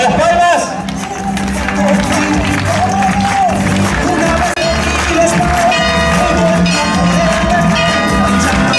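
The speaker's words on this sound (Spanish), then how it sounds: "¡Vamos, las palmas!" Crowd clapping and cheering along at a live nativity scene in Basavilbaso, Argentina, loud and continuous over music, with voices and babble throughout.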